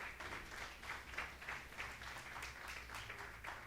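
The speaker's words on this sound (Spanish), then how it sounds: "Denle otro aplauso al Señor" Church congregation applauding during a Spanish-language service, with a steady wash of clapping heard at a moderate distance over a low, constant background hum.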